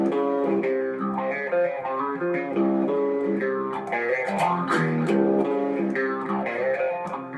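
Heavily distorted guitar playing the intro riff of a new metal-style band song, dense sustained chords with a steady driving rhythm, loud and continuous with no voices.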